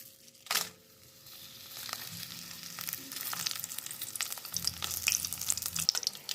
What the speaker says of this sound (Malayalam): ഒരു 10 വറ്റൽമുളക് ഞാൻ എടുത്തിട്ടുണ്ട്. അതും കൂടി നമുക്കൊന്ന് എണ്ണയിലിട്ടൊന്ന് ചൂടാക്കിയെടുക്കാം.